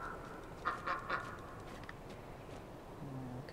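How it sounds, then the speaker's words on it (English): Ducks quack in the video game Lost Ember, a quick run of three faint quacks over a soft outdoor ambience, then a low call near the end, with no talking. "There's so many ducks."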